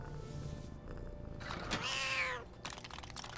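Black Panther in the LEGO Marvel video game gives a cat-like growl that rises into a snarling yowl near the middle, set against game music and effects.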